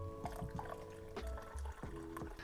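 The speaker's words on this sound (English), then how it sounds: "I'm going to add about a cup of cold water to it just to cool it" Cold water poured into a hot bowl that has just been boiled, giving faint splashing and trickling with a few drip-like plinks, quiet and close.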